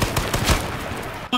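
Gunfire in the battle-royale game H1Z1, a rapid string of sharp cracks packed into about a second, loud and close, running under a steady rumble of background noise.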